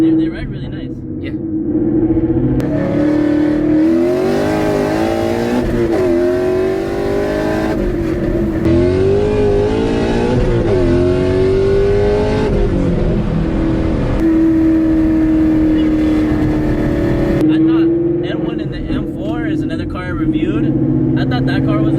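A 700 HP Procharged Mustang GT on Eibach lowering springs drives at steady engine drone with rising and falling rev sweeps, close and loud inside the cabin, while people talk over it throughout.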